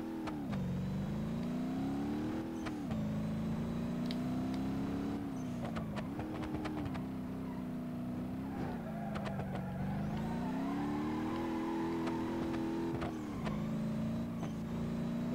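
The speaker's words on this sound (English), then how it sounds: "I don't want to over-rev my brand new race car." Race car engine in the driving game BeamNG Drive revs continuously, its pitch climbing and dropping in repeated waves through the gears, loud and close with no talk over it.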